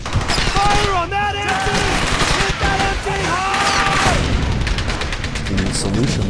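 Bursts of rapid automatic gunfire and rifle shots ring out in a World War II combat game, Brothers in Arms: Hell's Highway, mixed with shouted voices and a rising musical score.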